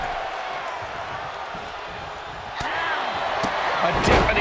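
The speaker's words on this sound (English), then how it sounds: "A deafening cheer from the WWE Universe is reverberating around us." Wrestling arena crowd at a WWE Raw tag team match, a steady loud roar of cheering that swells louder in the last seconds, with sharp slams and thuds from the ring cutting through.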